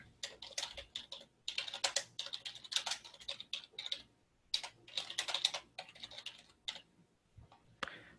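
Bursts of computer keyboard typing while a memo is entered, quick irregular clicks in clusters with short pauses, close and fairly quiet, no talking.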